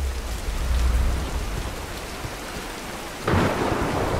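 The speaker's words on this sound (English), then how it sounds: "You stop that thunder." Steady heavy rain hisses with a low rumble of thunder underneath in the Tomb Raider video game, a fresh downpour surging louder near the end, with no voices.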